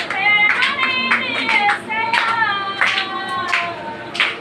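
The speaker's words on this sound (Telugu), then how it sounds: "చప్పట్లు కొట్టిన అందరూ కూడా" A church congregation claps hands in a steady rhythm, roughly every half second, beneath a prominent singing voice during worship.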